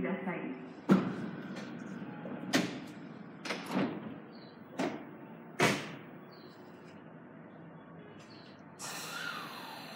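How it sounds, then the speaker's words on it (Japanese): Several sharp thuds of Tobu 50090 series train doors closing in sequence at Sakado Station, each with a brief rattle, over a busy station hum with faint voices and a rising hiss at the end. "閉まるドアにご注意ください。"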